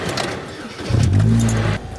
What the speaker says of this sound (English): So we can get the scanner plugged in. Start the car.